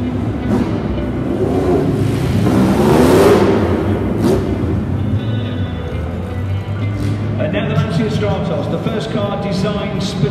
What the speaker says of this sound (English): Works Escort Mark II RS 1800. It's reshelled, but WTW 567S in British Airways livery is the car that Bjorn Valdegaard won